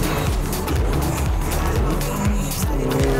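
A car racing at high speed in Forza Horizon 4, a loud continuous engine roar with rising and falling gear-shift pitch sweeps, close and steady throughout.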